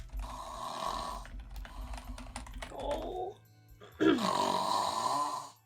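A person imitates snoring while describing a sleeping character on a mattress on the ground during a tabletop role-play session; a rough, grunting snore imitation comes in two bursts, with a short exclamation and light tapping between them.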